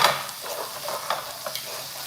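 Food frying in a little butter in a hot pan, a steady close sizzle with a few soft stirring scrapes and light pops.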